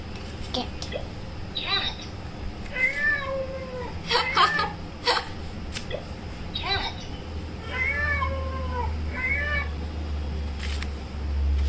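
Recorded cat meows from a children's learning card toy, several short electronic meows in bursts, with someone speaking in between and some laughter.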